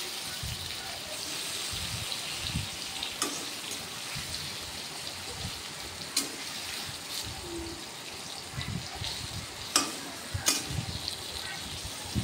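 Thick-cut paneer pieces frying in oil in a wok give a steady, moderate crackle and sizzle with scattered sharper pops throughout.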